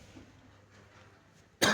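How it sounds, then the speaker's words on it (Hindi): A single sharp cough bursts out at the very end after quiet room tone, loud and close. "खांसी होगी।"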